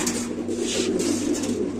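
Pigeons coo at a busy pigeon market, a soft, continuous murmur of overlapping low calls with steady crowd-like background hum close around.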